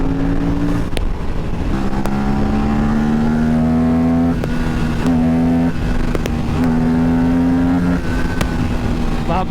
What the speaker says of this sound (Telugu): ఇవాళ అప్రిలియా RS 457 టెస్ట్ డ్రైవ్కి వచ్చాము